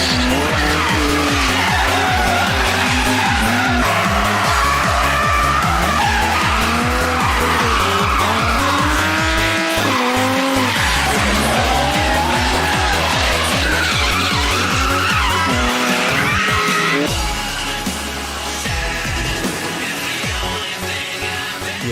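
Drift cars skid through a drift competition at a racing circuit in Ljubečna, engines roaring at full throttle with long, continuous tire squeal and rising and falling revs, loud and close throughout with a brief dip near the end.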